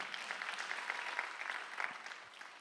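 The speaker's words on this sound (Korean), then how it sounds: "박수 하나 두시기 바랍니다" A church congregation claps together at a Sunday worship service, steady rhythmic applause from a crowd heard at a moderate distance, continuous for a few seconds with no talking over it.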